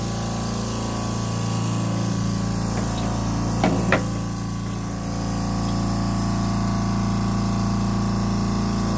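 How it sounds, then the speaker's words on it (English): A liquid pump runs steadily and close by, pushing antifreeze through a boat engine during winterization, with a constant low hum and a few brief splashy spurts midway. "now I'll turn on the pump"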